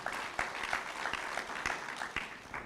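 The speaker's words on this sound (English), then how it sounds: "big round of applause" Workshop attendees give a round of applause, a steady crowd clapping with a few sharper individual claps standing out, fairly close and continuous throughout.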